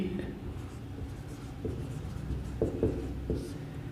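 A teacher writes on a board in a classroom lesson, making soft scratchy strokes and a few sharper taps over several seconds against a quiet room.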